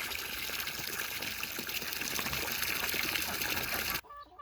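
Water pours and splashes out of a farm animal's water dish, a steady gushing stream that stops abruptly near the end.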